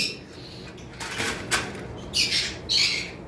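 Caged adult lovebirds in a breeding collection give a few sharp, nearby squawks toward the end, after some softer rustling and fluttering.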